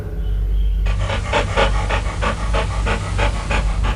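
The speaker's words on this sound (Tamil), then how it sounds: "அவன் அருகே அந்த நாயின் சூடான மூச்சுக்காற்று அருகில் மெல்ல மெல்ல வந்தது" A dog pants close by in a steady, rapid rhythm of breathy huffs over a low background hum.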